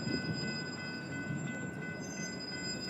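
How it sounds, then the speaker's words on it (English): A freight train slowing to a halt at trackside in Rosenberg, a steady low rolling rumble with faint high metallic squeal tones, heard alone without voices. "Then the train grounded to a halt"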